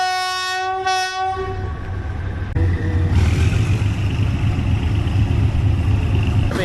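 A Thai local train at Kanchanaburi station sounds a loud, sustained two-blast horn, then rolls past with a continuous heavy rumble and clatter of wagons close by.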